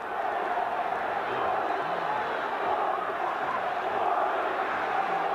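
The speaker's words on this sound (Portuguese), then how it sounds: "E a torcida do Corinthians dá uma demonstração de confiança, gritando Corinthians, Corinthians." A football stadium crowd of Corinthians supporters chants and roars continuously at a 1999 Brazilian championship match against Palmeiras, a dense, steady wash of massed voices heard from a distance without any clear individual speech.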